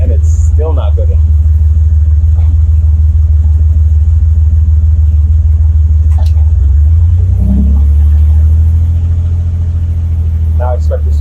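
A Buick Grand National engine idles at about 750 RPM with a loud, steady low rumble close by, while people talk over it.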